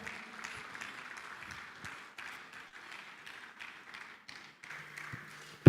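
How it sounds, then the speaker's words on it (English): A ceremony audience at an ADR conference gives a soft, scattered round of applause for an ambassador, moderately distant and uneven, ending with a sharp thump. "Please, let's put our hands together for him."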